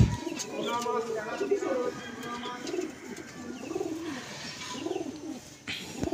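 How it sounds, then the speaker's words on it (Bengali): A young pigeon's soft, repeated coos roll in a low, throaty rhythm at close range, with a few higher chirps and some talking in the background. "এটা হলো বেবি পায়রা।"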